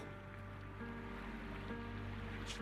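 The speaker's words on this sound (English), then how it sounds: "It's a stream." A flowing stream in the game Zenless Zone Zero rushes steadily, a faint continuous wash of water with a soft droning hum beneath it, no voices.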